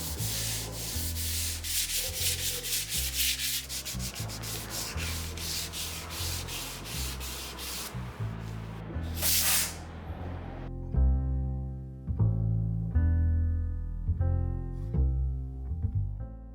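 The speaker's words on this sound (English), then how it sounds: "And this is a 220 sanding, and I do that in between each coat to flatten it out" Rhythmic abrasive strokes of hand sanding with 220-grit paper on the finish of a black walnut table, flattening sanding sealer between coats. The strokes are close and steady for about ten seconds, mixed with background music that carries on alone afterward.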